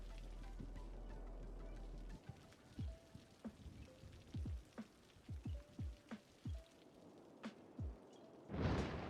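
Steady rain patters throughout a video game scene where fire has broken out, with a string of sharp, soft thuds and whooshes over the rainfall and a louder burst of noise at the end.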